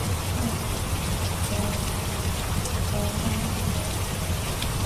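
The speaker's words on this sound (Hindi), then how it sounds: "बाहर बारिश देखने चला जाता है।" Steady rain falls outside in a cartoon story scene, a dense, even hiss of drops on surfaces that stays constant throughout with no voices.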